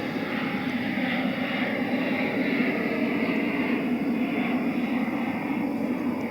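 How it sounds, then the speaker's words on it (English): A plane passes overhead as a steady, loud broadband roar that holds evenly from start to finish, with no talking over it. "Let this plane go by."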